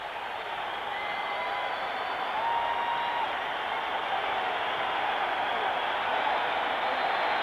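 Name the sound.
arena crowd applauding boxer Marvin Hagler's entrance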